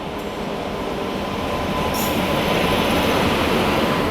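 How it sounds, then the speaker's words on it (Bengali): Puri–Bangriposi Intercity Superfast train passing close by, a loud continuous rail roar with wheel rumble and a brief high squeal partway through. "Puri Bangriposi intercity superfast."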